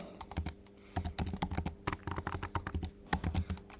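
Fast typing of a note on a computer keyboard, a dense run of sharp close key clicks with brief pauses and a few heavier keystrokes, no voice over it.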